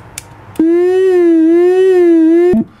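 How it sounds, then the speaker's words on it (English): A dub siren synthesizer built from 555 timers and a 741 op amp sounds one loud, buzzy sustained tone whose pitch gently wavers up and down for about two seconds, then stops abruptly. "So it's basically dub siren"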